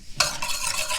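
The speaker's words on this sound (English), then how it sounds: "we're going to give it a good whisk" Coffee crème brûlée filling being whisked in a bowl, a sudden start into a rapid, steady swishing and clinking whisk rhythm, close and fairly loud, no one speaking.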